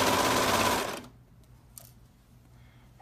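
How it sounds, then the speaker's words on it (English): A serger overlock machine sewing the front of joggers whirs in a fast, loud mechanical burst for about a second, then stops, leaving quiet room noise with a couple of small clicks. "This is where we're serging now on the front."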